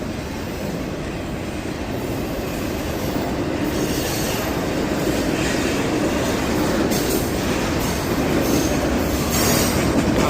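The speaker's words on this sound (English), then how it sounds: "Double freight train. All the way across the tracks." A double freight train rumbles steadily past close by, wheels clattering and squealing on the rails, the roar holding loud throughout.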